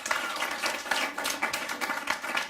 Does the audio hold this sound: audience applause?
yes